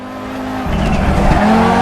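Audi Quattro Group B rally car from the 1980s, without ABS, locking its tires in Assetto Corsa on the Nordschleife: a loud engine drone drops away as the tires skid briefly, then the engine note climbs again.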